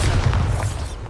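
Confringo blasting spell going off in Hogwarts Legacy, a short, loud, muffled boom burst with no voices.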